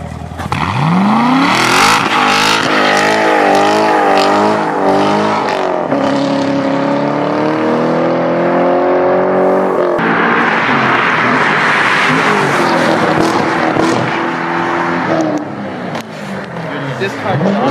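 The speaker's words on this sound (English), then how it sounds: "That's what you call revving." Corvette engine modified to be as loud as possible, revving hard in repeated rising and falling surges, very loud and close, with a voice speaking over it at times.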